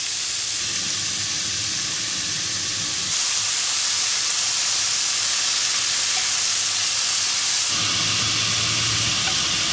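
Cheesesteak meat sizzling in a hot pan while cooking outdoors on a city street, a loud, steady hiss that surges louder partway through and then drops back, close up, with no voices.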